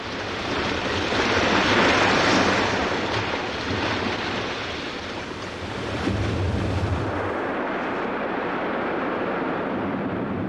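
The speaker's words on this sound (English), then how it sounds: "The edges of Hawaii's islands are steep and constantly swept by powerful waves." Powerful ocean waves surge and crash against the steep edges of a Hawaiian island, making a loud, continuous roar of churning surf that swells and eases without pause.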